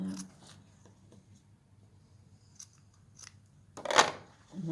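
Scissors trimming fabric quilt binding, a few sharp snips spaced apart and close up, the loudest cut near the end, with quiet handling noise between.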